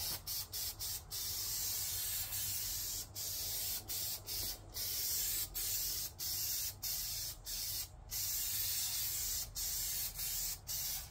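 Short bursts of spray paint hiss out as a light first coat goes onto a custom-built push bumper for a Cushman UTV-MAX. The bursts come in an irregular rhythm with brief pauses between them, close and steady, and no one speaks.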